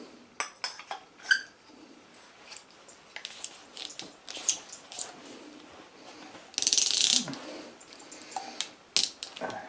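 Water softener fittings being hand-tightened out of the unit, giving a run of small clicking, ratcheting and scraping plastic sounds close up, with one brief louder rushing burst partway through.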